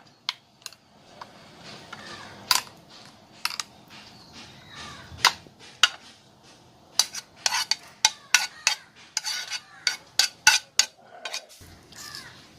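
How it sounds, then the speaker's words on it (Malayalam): A spoon clicks and scrapes against a bowl while cooked pineapple is mixed into pineapple pachadi, giving irregular sharp taps that quicken toward the end over a quiet background, with no voices. "വേവിച്ച് വെച്ച പൈനാപ്പിൾ ആഡ് ചെയ്ത് കൊടുക്കാം. ഇത് നന്നായി ചൂടാറിയതിന് ശേഷം മാത്രമേ ആഡ് ചെയ്യാൻ പാടുള്ളൂ. നല്ലപോലെ മിക്സ് ചെയ്തെടുക്കാം."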